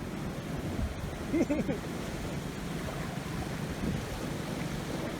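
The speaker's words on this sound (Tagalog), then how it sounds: "Parang balod na maliit." Small ocean waves wash against the rocky crags at Bangol, Agno, Pangasinan, making a continuous low rumble mixed with wind buffeting. A brief voice cuts in partway through.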